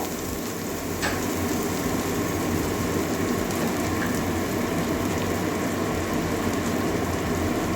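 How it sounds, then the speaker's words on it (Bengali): Coriander powder frying in a pan for a Bengali fish dish, a steady close hiss and sizzle that runs without a break for the whole stretch. "ধনেটা এবার ভালো করে ভেজে নেব"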